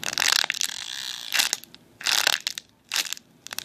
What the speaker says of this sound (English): Sorry about the plastic noises.